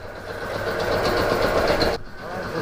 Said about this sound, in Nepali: यो बाइक चलाउँ न.